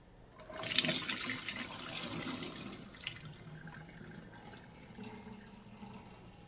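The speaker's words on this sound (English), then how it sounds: "Getting ready to drain these beans." Running water pours and splashes into a sink as cooked beans are drained and rinsed, starting with a loud gush that settles into a steadier, softer flow.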